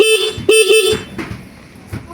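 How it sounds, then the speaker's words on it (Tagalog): A Honda Raider 150 carburetor motorcycle's horn beeps twice, loud and close: a short toot, then a longer one, followed by a low idling engine. "Yun, busina, horn."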